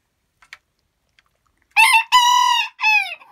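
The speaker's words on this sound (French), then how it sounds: "Ici, on entend le papa qui fait le gros cocorico" An adult rooster, the father of a small farm flock, gives a loud close crow in three strong harmonic bursts, with a couple of faint clucks before it.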